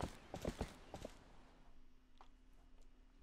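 A few sharp clip-clop horse hoof steps in The Legend of Zelda: Twilight Princess HD sound up close at first, then fade to faint, scattered taps over a quiet background hum.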